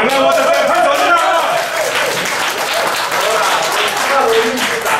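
An audience at a school alumni reunion claps in loud, sustained applause, with voices in the room talking over the steady clapping.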